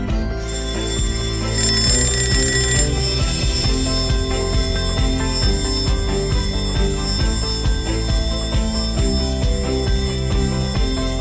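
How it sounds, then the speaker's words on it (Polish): An alarm clock rings in a steady, continuous metallic jangle of sustained bell tones, blended with music. "Włączamy misyjny budzik."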